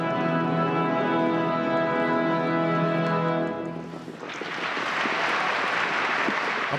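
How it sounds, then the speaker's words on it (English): After a Nutcracker ballet performance in a theatre, orchestral music with sustained tones fades out and a loud, dense wash of audience applause rises and fills the hall. "And when you hear the applause at the end of every performance"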